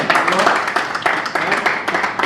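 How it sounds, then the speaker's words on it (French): A live audience at a French stand-up comedy show applauding, with a dense, steady wash of clapping and crowd noise that fills the whole stretch at a fairly loud level. "Applaudissez pour vous-même."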